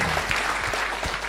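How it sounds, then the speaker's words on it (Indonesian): Brief, dense applause from an audience for Pak Lo at a stock market discussion event, loud and steady for just over a second. "berikan tepuk tangan dulu dong buat Pak Lo"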